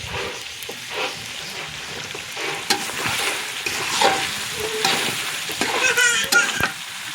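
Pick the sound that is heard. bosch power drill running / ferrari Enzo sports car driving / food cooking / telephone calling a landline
food cooking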